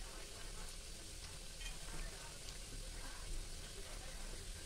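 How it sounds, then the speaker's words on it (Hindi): Bajra flour puris fry in oil and are turned over one by one. A faint, continuous sizzle with soft bubbling runs steadily throughout. "अब इसी तरीके से सिकने देंगे और इसको गैस एक एक करके पलट देंगे इस तरीके से।"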